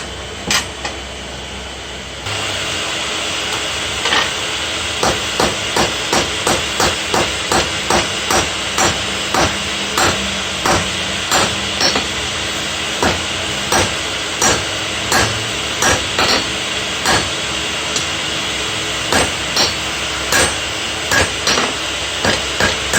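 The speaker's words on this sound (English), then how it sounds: "I'm going to see if I can forge weld that by getting it really hot and using some borax to fuse it together" Hot steel is hammered to forge weld a seax with borax flux, giving a long run of steady, loud, evenly spaced metallic blows over a constant background hiss.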